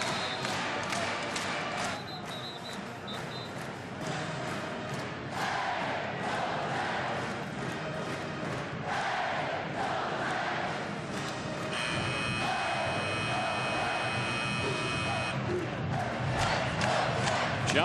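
A basketball arena crowd at a Saint Mary's vs Gonzaga college game cheers and roars steadily throughout, loud and dense, with a few voices rising above the noise and a brief tonal buzz midway.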